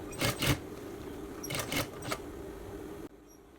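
A sewing machine stitches along the waistband of a pair of jeans, following an existing stitch line. It runs in two short bursts of rapid stitching with a steady low hum between them, then drops quiet near the end.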